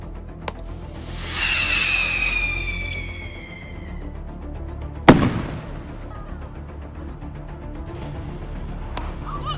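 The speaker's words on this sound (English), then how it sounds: "another firework exploded right in his face" Fireworks at a Vancouver fireworks show: a whistling, crackling burst early on, then one sharp loud bang mid-clip followed by scattered fainter pops, with no voices.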